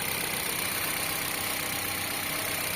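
A Mitsubishi Xpander GLS with a 1500 cc four-cylinder engine idles steadily up close, giving a smooth, even hum with no speech.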